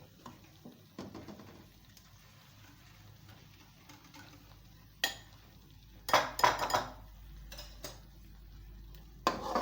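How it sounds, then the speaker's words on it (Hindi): A spoon stirs an egg mixture into semolina halwa in a pan over a low flame, making sparse, quiet metallic clinks and scrapes with a few sharper knocks among long near-silent gaps. "एक हाथ से हम चम्मच हिलाते जाएंगे, एक हाथ से डालेंगे।"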